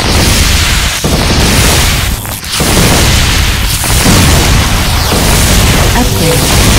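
Airstrike explosions in the tower-defense video game Defense Zone 2, a loud continuous barrage of deep booms and blasts rolling one into another, with a brief dip in the middle before the rumble resumes.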